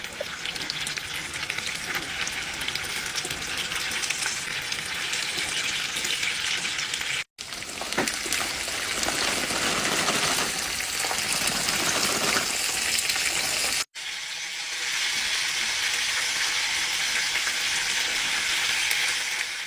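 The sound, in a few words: food frying in a pan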